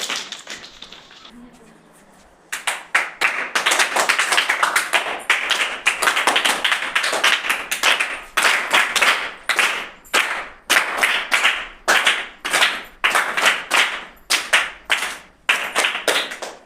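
An audience claps loudly after cast members of a school eco-club environmental role-play are announced, a dense burst of applause that turns into rhythmic, uneven rounds of claps; a brief quiet voice comes just before.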